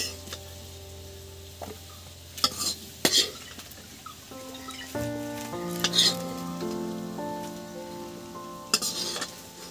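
Potatoes frying in a little oil give a steady low sizzle, broken by a few sharp scraping and clinking spikes from utensils against the pan, with layered tonal hum underneath and no voices.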